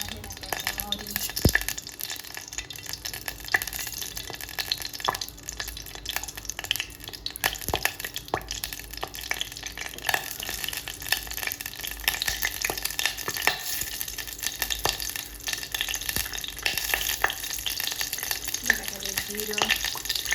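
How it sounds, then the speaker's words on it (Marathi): Mustard seeds crackle and sizzle in hot oil for a tadka on a dhokla, a steady frying hiss with scattered sharp pops and clinks running throughout, close to the pan with no one talking. "पहिले आपल्याला टाकायचं आहे तेल. त्यामध्ये टाकायचं मोहरी,"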